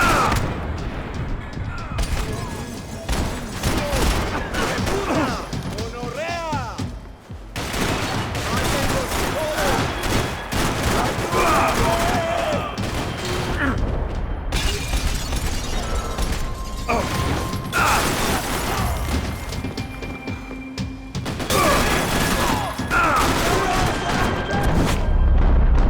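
Rapid gunfire from Max Payne 3 gameplay, with repeated shot bursts and booms filling most of the stretch amid game music and effects, pausing briefly before resuming.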